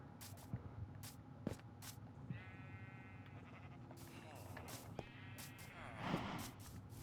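Sheep bleating in Minecraft, several short wavering bleats spread across the span, moderately clear, while someone talks over them at a steady level.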